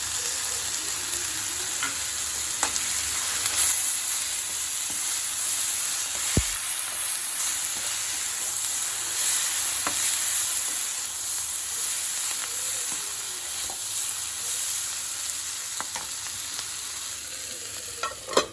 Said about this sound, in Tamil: இந்த சைடில் நம்ம வச்சுருக்க கொத்தமல்லி போட்டுடலாம்